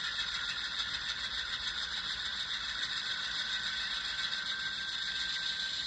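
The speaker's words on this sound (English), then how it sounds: "Has a nice smooth engine throttle up. It goes through the notch steps nice and fluidly." An N scale Atlas Dash 8-40CW model locomotive's sound decoder throttles up its diesel engine sound. The steady, tinny, high-pitched drone comes from a small speaker and is heard alone at a moderate level.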